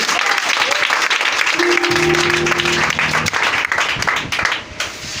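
A church congregation applauding and cheering at a French-speaking service, sustained loud clapping with voices mixed in, a held tone rising underneath before the applause fades.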